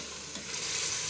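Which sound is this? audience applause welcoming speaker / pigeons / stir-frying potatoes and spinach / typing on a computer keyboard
stir-frying potatoes and spinach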